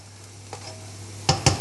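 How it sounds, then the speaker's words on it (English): Pork stir-frying in a wok, a low steady sizzle with a faint hum, then three quick loud scraping tosses of the spatula near the end. "Okay, we'll get this pork all coated up. We'll stir fry it off for another"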